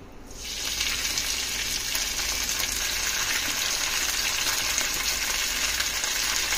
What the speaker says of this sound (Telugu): ఆయిల్ వేడైన తర్వాత గోంగూర వేసుకోండి